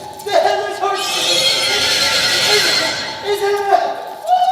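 A horse neighs for the headless horseman in a stage production of The Legend of Sleepy Hollow: two loud, drawn-out whinnies, one near the start and one near the end, with a noisy stretch between them.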